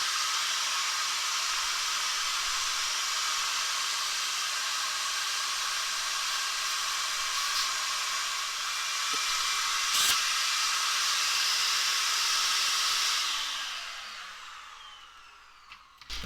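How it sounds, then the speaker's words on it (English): Vacuum cleaner clearing dust from an old Core2Duo desktop computer, a loud, steady broadband whoosh that runs nearly unbroken for about thirteen seconds, then dies away as the motor winds down, with a brief knock or two along the way. "I think we will now engage the vacuum cleaner"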